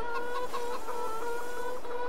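Chickens clucking in Farming Simulator 22, a close, loud and continuous chorus of farm hens with overlapping repeated clucks and no talk over them.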